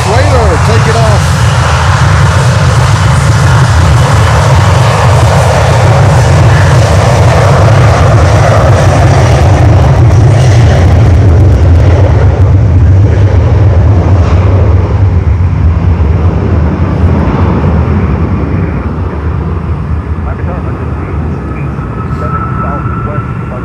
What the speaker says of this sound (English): Always great to see 737 300 freighter take it off.